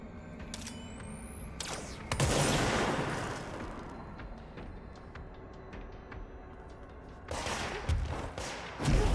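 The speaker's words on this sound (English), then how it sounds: "You can shoot while you're flying." Gunfire from a character levitating in Control comes in sharp, scattered shots, with a heavier blast around two seconds that trails off into a low rumble and another cluster of loud bursts near the end.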